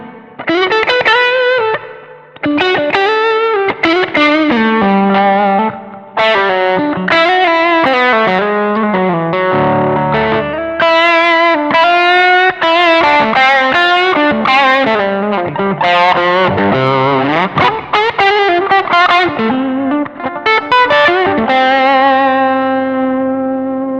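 Electric guitar on the neck pickup driven through a Tube Screamer-style overdrive in a Zoom G3X HD multi-effects pedal, with the tone rolled back slightly: a loud, continuous run of sustained notes and chords with no talking.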